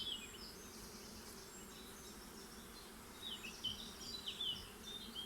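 A honeybee colony humming in the hive, a faint, steady, high buzz of many bees, with louder wings darting past near the end.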